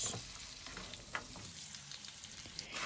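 Baby potatoes fry in a mix of butter and oil, giving a steady dense sizzle at close range, with scattered soft scrapes and clinks from frequent stirring and no voices.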